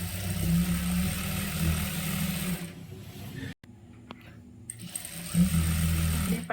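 A sewing machine runs in steady whirring bursts while stitching chudidar fabric, pausing briefly mid-way before the motor hums up again, close and continuous.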